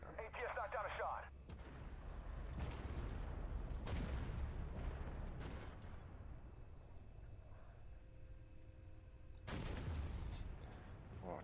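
A tank cannon fires in the Armored Warfare video game, sharp loud booms with short rolling echoes recurring through the stretch, while radio-style game chatter and engine hum carry on underneath.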